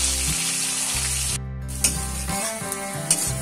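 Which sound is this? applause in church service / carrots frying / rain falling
carrots frying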